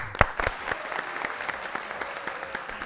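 A studio audience claps after a music performance on a talk show, steady moderate applause with a sharper clap near the start, fairly close and continuous without talking.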